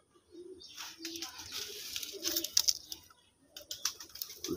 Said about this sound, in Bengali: লেস সাদা আকাশি মাদি কবুতর।